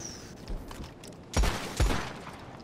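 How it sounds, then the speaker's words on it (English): Gunfire in the Red Dead Redemption 2 video game: two sharp, loud shots about half a second apart, following fainter game ambience. "Did you shoot me?"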